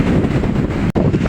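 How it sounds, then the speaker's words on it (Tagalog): Strong wind buffets the microphone at sea as big waves roll in, with a steady roaring rush that continues except for a brief dropout near the end. "Lakas ng hangin, pakinig nyo ka ang agasaan."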